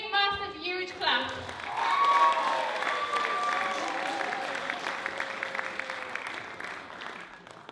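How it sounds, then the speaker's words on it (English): A live-show audience claps for a group coming on stage, steady applause and crowd noise that begins after a short tonal sound and runs on under faint voices. "Give them a big, massive, huge clap."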